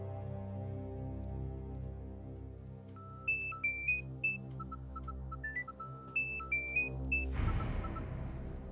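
A mobile phone ringtone plays quietly, a bright melodic sequence of short tones over soft background music in a domestic drama scene, with no talking.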